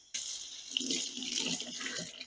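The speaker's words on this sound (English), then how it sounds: "I guess I got to running water really close." Water running from a kitchen tap during indoor cooking, switching on abruptly and then rushing steadily and fairly loud into the sink, with no talking.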